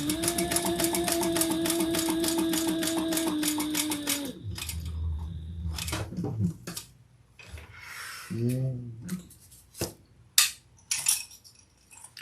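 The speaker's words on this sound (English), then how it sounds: "I'm going to turn it over and stitch underneath that first card slot." A sewing machine stitches beneath a card slot, running steadily for about four seconds before stopping, followed by scattered handling clatter and rustling close by.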